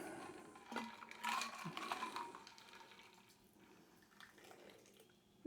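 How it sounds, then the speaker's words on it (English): A white tea shot poured out of a glass: a short, close splash of liquid with a few drips and clinks, then quieter trickling that fades away. "Pour that one out."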